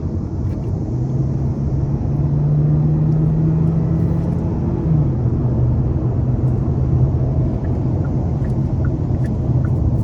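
A Hyundai Elantra Hybrid Limited accelerates hard on the road, giving a loud, steady low engine drone and rumble from inside the cabin with a slight pitch shift midway, no talking.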